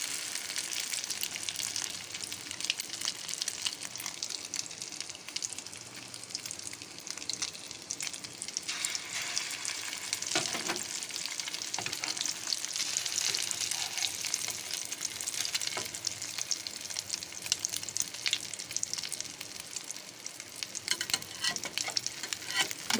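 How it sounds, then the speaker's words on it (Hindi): Shami kebabs fry in a pan with a steady, loud, continuous sizzle and crackle that carries on unbroken throughout, with no voices. "इसको अभी हम इसी तरीके से और शामियाँ इसमें डाल देंगे, वो भी साथ साथ फ्राई हो जाएंगी।"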